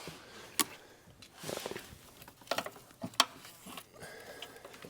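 A hand ratchet works a 13mm bolt on an engine bracket of a Jeep Grand Cherokee with a 3.6L Pentastar, giving a few short, sharp metallic clicks and scrapes at irregular intervals, close and moderately loud.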